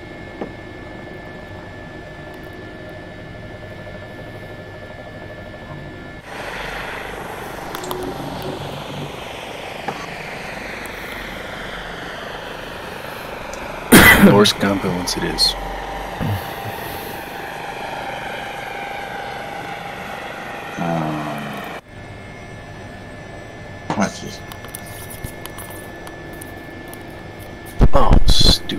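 A simulated helicopter's engine and rotor drone steadily in a flight simulator game during a search-and-rescue training session. The tone is layered and mechanical, and people talk over it, with sharp clicks and bursts breaking in at intervals.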